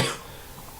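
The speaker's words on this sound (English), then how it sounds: "excuse me again, cough." A single short cough bursts out at the start, then fades into quiet room noise.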